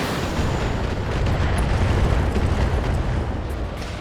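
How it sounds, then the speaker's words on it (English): In the BattleTech video game, a missile volley hits and destroys a turret generator, producing a dense, sustained rumbling explosion that roars loudly for several seconds with faint crackles on top. "I think I'll just destroy the turret generator with a missile volley."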